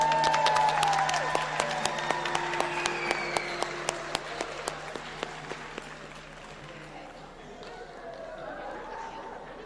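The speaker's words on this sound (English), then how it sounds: "let's give them all a round of applause." Audience applause for graduates at an August 2022 nursing pinning ceremony: crisp, closely spaced claps from a crowd that gradually thin and fade, with murmured chatter and a voice continuing beneath and after.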